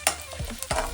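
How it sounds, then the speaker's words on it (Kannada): Garam masala spices fry in hot ghee over a low flame, a dense crackling sizzle broken by two quick utensil scrapes in a short burst. "ತುಪ್ಪ ಬಿಸಿ ಆದಮೇಲೆ ಇದು ಎಲ್ಲ ಗರಂ ಮಸಾಲ ಹಾಕಿ ಒಂದು ನಿಮಿಷ ಫ್ರೈ ಮಾಡಬೇಕು"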